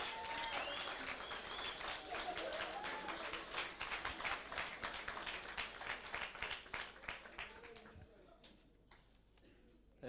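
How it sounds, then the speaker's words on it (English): Steady applause from a crowd of young entrepreneurs at a Gauteng pitching event, welcoming a furniture maker onto the stage, with many hands clapping for around eight seconds before fading into quiet and a few last claps. "Can you please give him a round of applause?"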